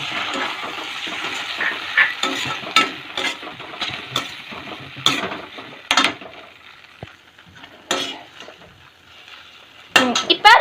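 Cornflour slurry being stirred into cauliflower gobi manchurian in a pan, a steady run of scraping, clinking spoon-on-metal and wet sizzling sounds with sharp spikes, close and fairly loud throughout.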